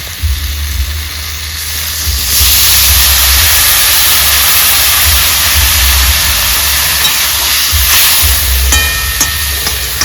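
A splash of water hits potato, brinjal and radish frying in a pan, setting off a loud, steady hiss of sizzling steam that swells after a couple of seconds and holds without speech.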